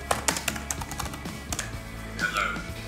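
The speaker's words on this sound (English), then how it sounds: "Type say hello and press enter" Keys tapped on the keyboard of a Kano build-it-yourself computer, with a quick run of light clicks followed by a softer electronic tone.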